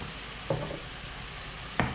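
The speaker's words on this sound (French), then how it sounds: "On vient mélanger." Salmon pasta sauce with garlic and basil is stirred in a pan, giving two brief scraping strokes about a second apart over a faint steady sizzle, with no talking.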